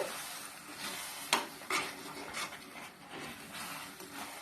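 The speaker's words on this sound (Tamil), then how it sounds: "இப்போ இது எல்லாத்தையுமே நல்லா கலந்து விட்டுக்கோங்க" Pumpkin halwa mixture with sugar being stirred in a pan, soft scraping strokes and a gentle sizzle, with a couple of sharper knocks of the spoon against the pan.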